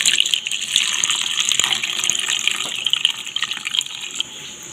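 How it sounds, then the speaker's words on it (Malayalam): Water streams steadily from a tap onto leftover chapati dough in a bowl, a close, continuous gushing splash that tapers off near the end. "ഇനി നമുക്കിതിലേക്ക് വെള്ളം ഒഴിച്ച് കൊടുക്കാം."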